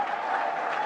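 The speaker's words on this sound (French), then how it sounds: "est-ce qu'on peut applaudir pour le président?" Audience applause for the president at a gathering, a steady dense wash of clapping filling the short moment without a break.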